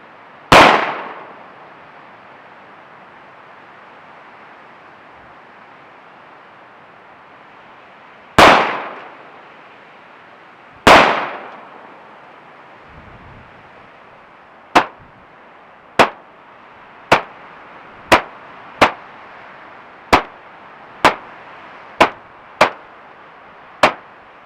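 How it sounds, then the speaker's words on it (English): An M&P 2.0 pistol fires Blazer brass 124 grain rounds outdoors: three widely spaced sharp reports, then a faster string of about ten shots at a steady rhythm, each crack loud and close. "we will fire 18 rounds with our Blazer brass 124 grain"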